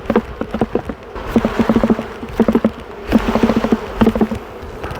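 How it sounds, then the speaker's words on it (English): Bees buzzing while being shaken and tapped off a brood frame at an open hive, with repeated sharp knocks and thumps in bursts over a steady close insect hum. "I'm just shaking the bees off, giving a little tap to get the rest of them off"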